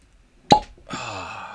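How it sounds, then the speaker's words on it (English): A cork pops from a whiskey bottle with one sharp, close plop, followed by a brief hollow ring. "pause for cork pop"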